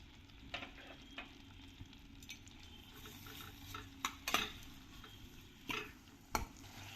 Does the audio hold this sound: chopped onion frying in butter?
yes